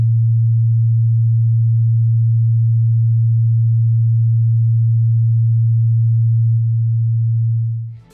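Steady 114.33 Hz sine test tone used to demonstrate frequency cancellation in the bass: a pure, loud, unwavering low hum that holds for about eight seconds, then fades away abruptly at the end.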